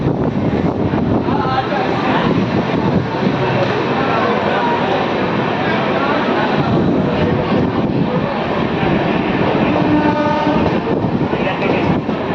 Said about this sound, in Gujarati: અરાઇવલ થઈ રહ્યું છે ટ્રેનનું.